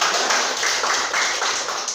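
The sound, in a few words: classroom applause for a student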